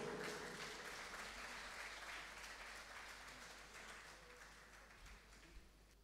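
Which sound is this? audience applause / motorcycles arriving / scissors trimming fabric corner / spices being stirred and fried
audience applause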